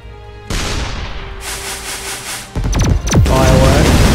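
A firework weapon fired in the artillery game ShellShock Live launches with a sudden burst, followed by a sustained hiss and a cluster of rapid crackling, whistling pops and loud booming impacts.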